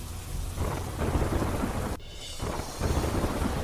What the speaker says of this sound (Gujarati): તોફાની પવન સાથે વરસાદ વરસ્યો